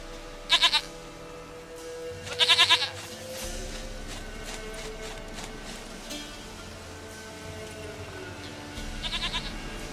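A goat in The Witcher 3: Wild Hunt bleats loudly in three short wavering calls, two close together early and one later, over a low steady background of game ambience.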